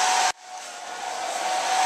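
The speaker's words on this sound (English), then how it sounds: "I like to use a blow dryer, and I'll show you how that works right here" A hair blow dryer aimed at a snapback hat during restoration runs loud and steady, briefly cutting out near the start before whooshing back on at full strength, with no talking.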